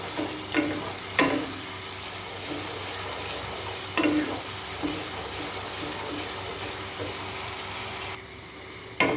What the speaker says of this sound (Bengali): কিমাটাকে ভালো করে কষাতে থাকবো যতক্ষণ না পর্যন্ত এটা থেকে তেল ছেড়ে আসে।